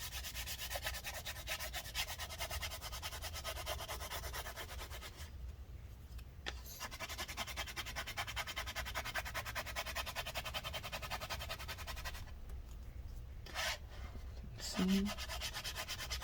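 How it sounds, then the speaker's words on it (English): Old battery adhesive is scraped off inside a mid-2014 15-inch Retina MacBook Pro (A1398) after soaking in rubbing alcohol, giving a continuous close rasping scrape that pauses briefly twice, with a single short spoken word. "You don't have to try and scrape it right away, but the scraping speeds up the process."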